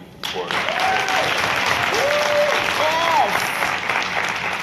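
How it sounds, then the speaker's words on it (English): Steady applause from a summit audience fills the whole stretch, with a voice briefly calling out over the clapping. "can I get even an even bigger round of applause for AT&T?"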